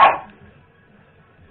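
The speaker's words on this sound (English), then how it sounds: "that's my dog barking." One abrupt dog bark hits at the very start, fairly loud and close, then trails off into near-silence with only faint low background noise.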